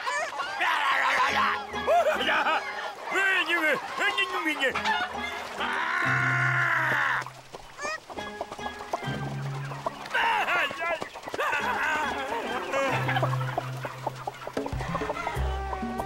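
Cartoon chickens cluck and crow in a busy, overlapping chorus over a music score, with giggly animated vocal bursts mixed in throughout.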